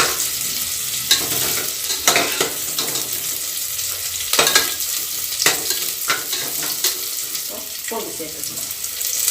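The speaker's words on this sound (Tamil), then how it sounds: "வெங்காயம் கறிவேப்பிலை போட்டுக்கணும். நல்லா வதக்கிடணும்." Onions and curry leaves sautéing in a pan for tamarind pongal, a steady close sizzle with repeated stirring scrapes and occasional sharper clinks, no voices.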